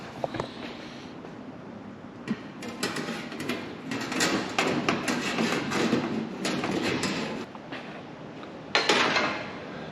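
Sheet metal for a Sopwith Camel hump is hand formed over a length of tube screwed to a workbench, producing irregular metallic knocks, taps and clanks over a rattling workshop background, with a sharper burst near the end.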